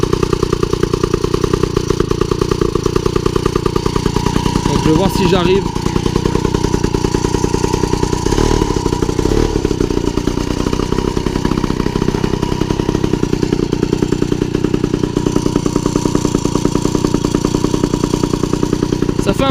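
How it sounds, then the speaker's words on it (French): A small motorcycle engine, an AV10, runs steadily with a rough, buzzing idle and a few revs, close by, while someone speaks briefly over it. "ce moteur AV10 qui tourne."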